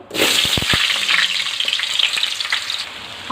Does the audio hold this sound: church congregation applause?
no